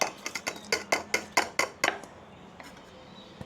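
Mango pieces drop one after another into a steel vessel while a milkshake is made, giving about a dozen sharp metallic clinks in quick succession, then a couple of fainter taps with no talk.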